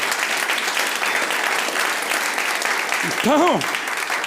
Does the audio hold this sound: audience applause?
yes